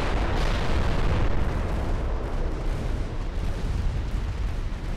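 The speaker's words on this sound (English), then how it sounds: "Oh, there's a torpedo. That was a torpedo." A torpedo strikes a battlecruiser in Ultimate Admiral Dreadnoughts, a dense, continuous rumbling naval explosion and cannon roar filling the whole stretch, loud and unbroken with no talk.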